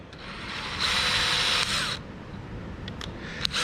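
Short burst of a cordless drill spinning a 1/16 inch bit into a small cedar chest hinge piece, a whirring run of about a second followed by quieter clicks and handling noises.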